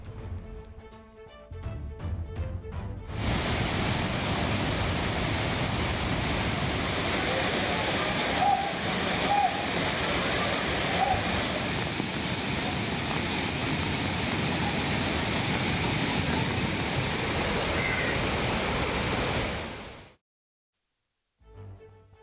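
Floodwater at Thirparappu waterfall roars down in a dense, unbroken rush, loud and steady for about seventeen seconds before cutting off abruptly, with a shorter noisy stretch at the start.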